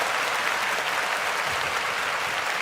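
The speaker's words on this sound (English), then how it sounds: "Give yourselves a round of applause." A steady, dense roar of applause from an audience at a 49ers football talk show, even and sustained throughout with no pauses.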